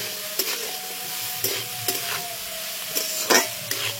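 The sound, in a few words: capsicum being stirred and fried in a pan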